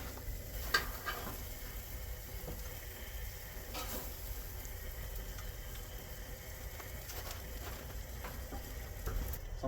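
Steaks and kebabs searing on a Monument Grills Mesa gas grill outdoors in freezing weather, a faint, steady sizzle and patter with a few soft crackles and clicks, no voices.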